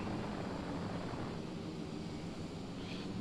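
An F-35 jet engine roars in Microsoft Flight Simulator 2020 during a vertical-takeoff hover flight, a steady, loud, broadband rumble with no voices.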